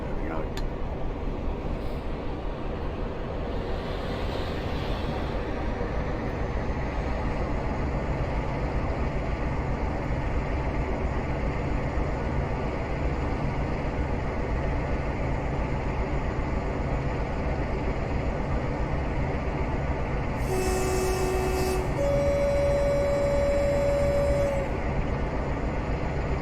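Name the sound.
Class 47 train running in video game Train Simulator Classic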